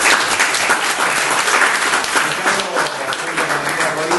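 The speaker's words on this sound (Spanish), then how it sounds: "así que un aplauso para Ricardo" A live audience applauds a moderator at a symposium, dense steady clapping from many hands filling the room for the whole stretch, with some voices mixed in underneath.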